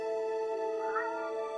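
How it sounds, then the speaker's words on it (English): A cat in the .hack//G.U. Vol.1 Rebirth game gives one drawn-out meow, steady and tonal with a slight rise near the middle, close and clear. "What are you meowing about so loud for?"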